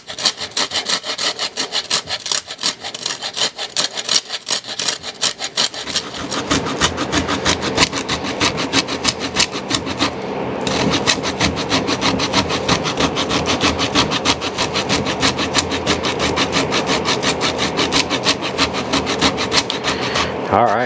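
Varnish conk mushroom being grated by hand into a mix of fine powder and chunks, a steady close rasping scrape that runs continuously and grows louder and coarser partway through, with no talking.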